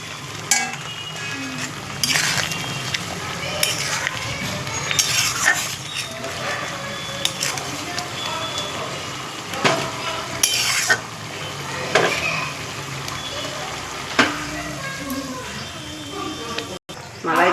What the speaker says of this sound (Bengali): এবার আমি মাছটা দিয়ে দিচ্ছি